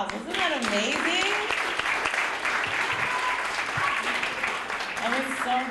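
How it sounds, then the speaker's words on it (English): Sustained applause from an audience at a graduation celebration, steady and loud throughout, with a voice and scattered cheers rising over the clapping at times. "One more round of applause"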